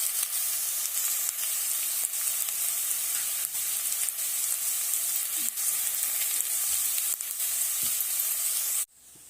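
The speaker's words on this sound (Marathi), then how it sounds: "शेंगदाणा आणि मिरचीचं वाटण मी एक गिरकी मारून काढले आहे आता हे आपल्याला तेलात घालून फ्राय करून घ्यायचं" Peanut and green chili paste frying in oil with sautéed potatoes for sabudana, giving a steady hissing sizzle with occasional light taps and stirs; it cuts off abruptly near the end.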